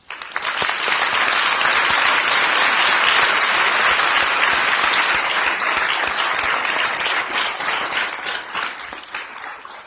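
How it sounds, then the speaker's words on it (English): At a memorial gift-of-life shawl ceremony, an audience breaks into loud, sustained applause, a dense wash of many hands clapping close by that runs nearly ten seconds before tapering off slightly, with no talking. "Let's take just a moment to acknowledge those heroes we just saw with a deserved round of applause"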